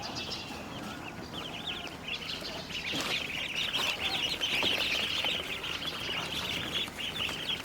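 A close, continuous chorus of high peeping from a crowd of local chicken and Khaki Campbell duckling chicks, steady throughout and slightly louder midway.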